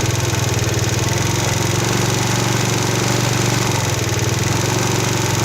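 A scooter's small 4-stroke Chinese engine idles steadily up close while its carburettor throttle stop is being set, a constant buzzing putter with no break for the whole stretch.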